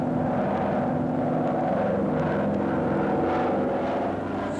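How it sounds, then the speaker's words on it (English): Lockheed P-38 Lightning twin-engine fighter plane in flight, a continuous loud droning engine roar that holds steady and fades slightly at the end. "the P-38 is a sky spy that slips in on the enemy for close-range aerial photos"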